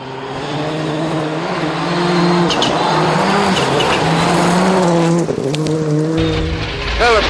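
Colin McRae's rally car slides through a corner, its engine droning loud and close with rising and falling revs, while gravel and tyre scrabble hiss beneath and the pitch dips as the car changes gear.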